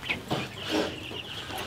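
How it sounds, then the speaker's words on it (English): Hens in a backyard chicken coop cluck and squawk in short, close bursts over a breathy background, with no talking. "Let's check on these chickens real quick."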